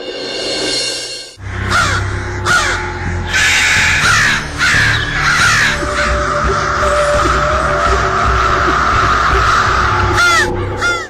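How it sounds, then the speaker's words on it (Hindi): A flock of crows caws loudly and repeatedly over a rooftop, harsh calls overlapping through the whole stretch against a steady low background hum. "कौवे का झुंड आकर घर की छत पर शोर करे"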